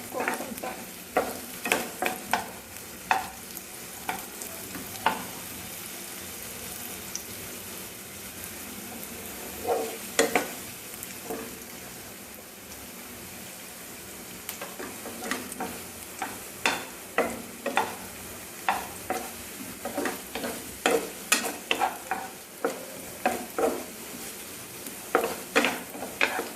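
Sweet potato roasts in a pan, giving a low, steady sizzle under frequent sharp scrapes and clinks as a utensil stirs against the pan, close by with no talking.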